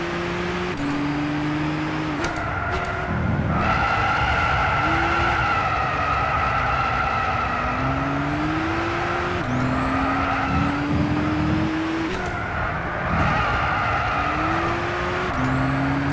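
A car in the Gran Turismo 6 racing game drifts with sustained tire squeal over a loud, steady engine drone. The pitch shifts as the car slides through corners, and the sound runs continuously without speech.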